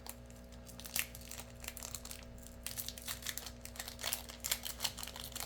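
A Pokémon TCG booster pack wrapper is worked open by hand, giving faint, close crinkling and tearing foil sounds in short irregular bursts, strongest in clustered rips toward the end, with no voices.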